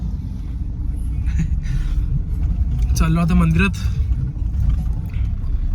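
Fast road traffic rushing past on a busy road, a continuous loud low rumble of cars close by, with someone talking over it.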